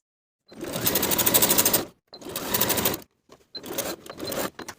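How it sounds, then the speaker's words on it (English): A sewing machine stitches the curved crotch seam of stretch denim jeans, running in three close, loud bursts with short pauses between them and no talk. "Sew the crotch curve as pinned with a 3/8 inch seam allowance."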